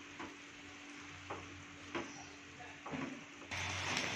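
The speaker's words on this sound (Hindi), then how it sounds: "तो अभी मैं इसमें पास्ता डाल दी हूँ मैं, और इसको मैं अच्छे से मिक्स कर दूंगी," Pasta with tomato ketchup is stirred in a pan, with a few faint, spaced scrapes of the spoon over a quiet, soft sizzle.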